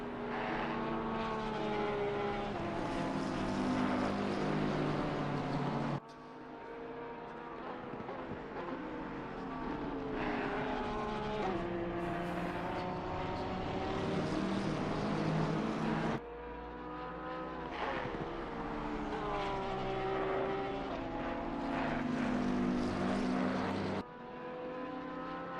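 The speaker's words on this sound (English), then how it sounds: "all I can hear is that Aston V12 engine" A high-revving Aston Martin V12 race car engine in a racing video game, at Laguna Seca, screams continuously, pitch sweeping up and down through gear shifts, loud and sustained with abrupt cuts.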